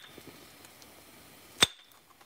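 A single sharp clink of a hammer stone striking flint during flint knapping, faint and alone against quiet background.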